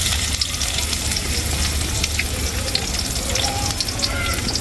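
Chopped onions fry in hot oil with cinnamon, cardamom and cloves, producing a steady, close sizzle broken by soft stirring clicks, with no speech.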